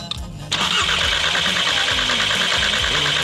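A car engine cranks briefly, then catches and runs at a steady, loud idle with a rhythmic pulsing chug during a crank and camshaft sensor check.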